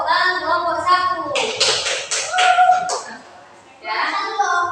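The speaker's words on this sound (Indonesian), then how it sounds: "Tepuk tangan kelompok 1." A children's group in class claps hands in a quick burst of sharp, close claps, with a teacher and children talking before and after it.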